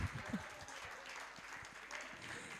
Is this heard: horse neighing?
no